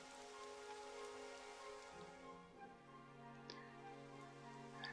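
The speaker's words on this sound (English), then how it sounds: "It would have to go and start raining, wouldn't it?" Rain falling in the video game Dragon Quest XI, a soft, steady patter over a sustained musical drone, with a few faint drop-like ticks and no speech.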